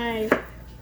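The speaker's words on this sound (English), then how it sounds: "So we're gonna go ahead and slice up the 3 potatoes" A single knife cut through potato, sliced by hand with a Camp Chef knife owned for fourteen years, lands as one short sharp crunch and board tap, close and clear, with no talk.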